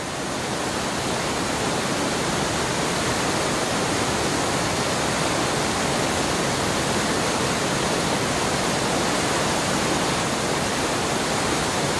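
Rushing, splashing mountain water in the Orkhon Valley of Mongolia, a loud dense unbroken roar filling the whole stretch, close by and with no voices.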